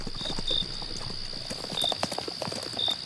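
Horse hooves clip-clop at a steady walking pace on hard ground, a mare moving along with a constant high insect-like whine in the background, heard fairly close and unaccompanied by talk.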